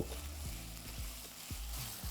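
Diced potato for sabudana khichdi sizzles steadily in hot oil in a pan, with a few soft stirring scrapes at a regular pace over a continuous frying hiss.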